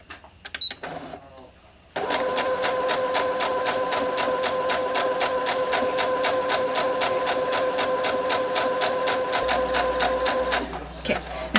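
A sewing machine stitches a quilt seam with a fast, steady, even rapid clatter lasting about nine seconds, preceded by brief handling noises and ending with a few clicks as it stops.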